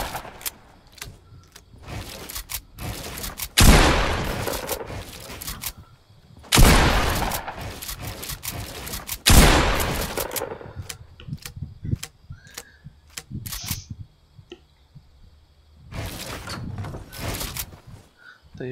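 Gunfire during a build fight in Fortnite, with rapid bursts and single shots cutting through clicky editing and building sounds, loud and close, with quieter stretches between volleys.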